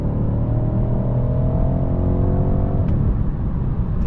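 A BMW M550i pulls hard in fourth gear from inside the cabin, a loud continuous engine drone rising steadily in pitch for nearly three seconds before dipping briefly and carrying on.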